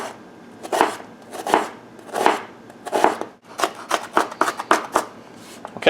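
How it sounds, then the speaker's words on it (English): A knife finely chops onion on a cutting board, sounding as close, crisp thuds, first in slow separate strokes and then in a quicker run of cuts, with no talking. "you also need to finely chop 2 onions"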